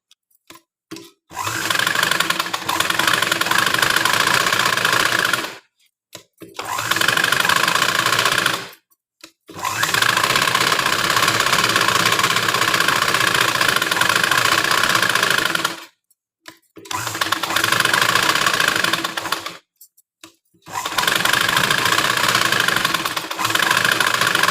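A sewing machine stitching lining around a blouse, running loud and close in long steady motor bursts with fast rhythmic needle clatter, stopping abruptly for short silent pauses several times before starting again.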